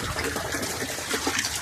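Water gushes steadily onto onion plants in a field, a continuous close splashing pour with no talk.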